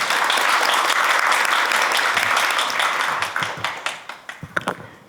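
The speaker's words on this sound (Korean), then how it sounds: "큰 박수로 맞아주시기 바랍니다." A seated audience at a National Assembly forum on patient safety education gives loud, sustained applause to welcome the Korean Nurses Association president, the steady clapping breaking into separate claps before fading out near the end.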